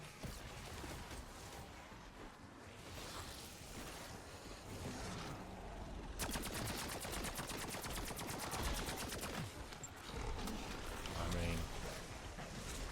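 An upgraded blue PAP 2 nail gun fires rapid bursts at a Mega Abomination in Black Ops zombies, the dense rattling shots layered over constant game noise and a loud background roar.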